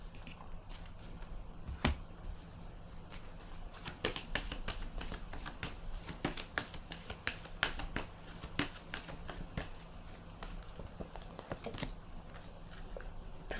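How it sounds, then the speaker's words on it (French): Tarot cards are handled and set down on a table in a steady run of crisp, close card flicks and soft slaps, repeated many times over a faint background hum. "Je vais déposer une autre carte."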